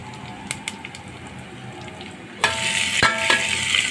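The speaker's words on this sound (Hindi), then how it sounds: "ये इसमें मैं ये थोड़ा सा खड़ा गरम मसाला डालूंगी।" Whole garam masala and cumin seeds drop into hot oil in a home kitchen: a quiet stretch with light clicks, then an abrupt loud sizzle that keeps crackling, with a sharp clink partway through.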